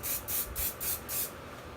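Kenra Perfect Medium hairspray, a medium-hold aerosol, sprayed in five quick close hissing bursts at an even rhythm, followed by a short quiet tail.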